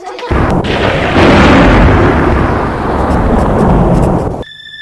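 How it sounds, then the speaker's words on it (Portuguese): A loud, close thunder sound effect rumbles and booms, sustained for about four seconds before cutting off abruptly into near silence with a faint tone. "Subitamente, do céu claro, ouviram o som de um trovão."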